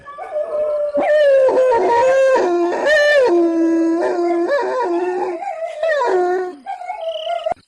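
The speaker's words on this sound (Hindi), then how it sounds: "जोर जोर से भौंककर अपने साथियों को पुकारने लगता है" A dog howls and yelps loudly and continuously, long wavering cries broken by sharp barks, close by.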